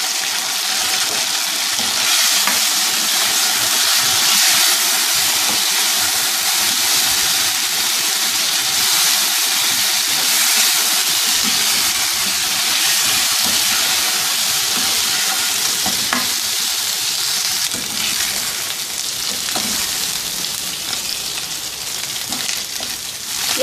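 Mutton chops fry loudly in masala and chili sauce, a dense, steady sizzle that fills the whole stretch without any talk.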